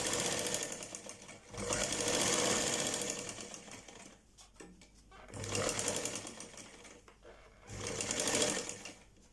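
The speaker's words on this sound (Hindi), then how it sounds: "बिल्कुल इलास्टिक के पास पास से ही आपको सिलाई लगानी है" A sewing machine stitches a trouser hem right beside the elastic, running in three loud, close bursts of rapid mechanical chatter separated by short pauses.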